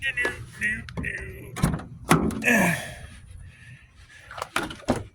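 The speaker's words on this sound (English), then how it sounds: "on, suicide doors. Oh. You gotta love that." Car suicide doors swinging open with a couple of door clunks and latch sounds, close by, while a person talks over them.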